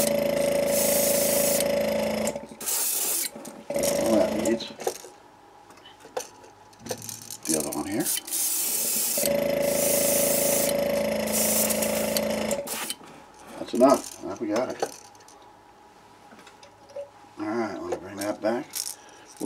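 Short hissing bursts of spray paint coat crankbaits, each lasting a few seconds and separated by quieter gaps with handling clicks and someone talking.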